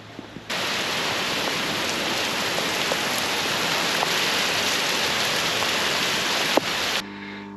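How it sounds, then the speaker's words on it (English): Steady rain falls outdoors in a garden beside a koi pond, a dense, even hiss that starts abruptly and holds at a constant loud level, with a few faint drip ticks on top and no talking. "It's giving rain out."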